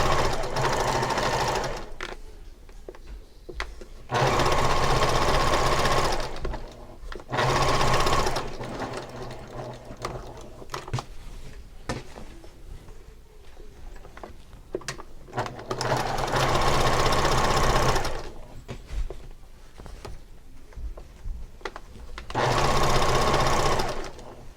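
Sewing machine stitching the seam of a gathered and pleated pillow sham, running in several loud bursts of steady whirring with short pauses between, under some quiet talk.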